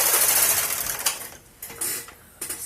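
A knitting machine carriage sweeps across both needle beds knitting a zigzag row, a close, loud mechanical rush that fades, then a few shorter clattering bursts.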